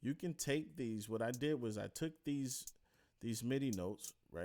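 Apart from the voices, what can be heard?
No everyday noises stand out.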